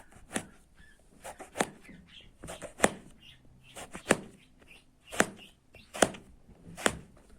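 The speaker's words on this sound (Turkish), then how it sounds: "patlıcanlarımızı kebaplık şeklinde doğrayacağız." A knife chops eggplant on a cutting board for kebab, making about a dozen sharp, close thunks at an uneven pace.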